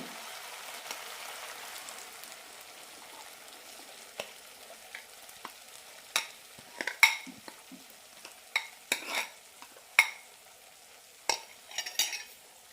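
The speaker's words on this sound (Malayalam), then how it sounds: "ഇഡ്ലി മാവ് ഒഴിക്കാം" Idli batter poured over half-cooked rava in a pan and stirred: a soft steady sizzle at first, then a run of sharp scraping clinks from a spoon against the pan, close and without talk.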